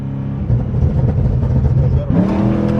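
A police car with a 1000-horsepower nitrous-fed LS3 V8 revs loudly up close, a deep burbling idle swelling into a rising roar and then a second, sharper climb, with no one speaking over it.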